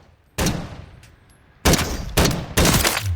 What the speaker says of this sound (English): Especially when you're rapid firing this thing, because basically you want to spam fire this close quarters to get the kills